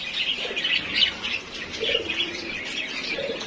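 Local domestic pigeons in a loft coo softly and chirp, with a brief flutter of wings, close and moderately quiet.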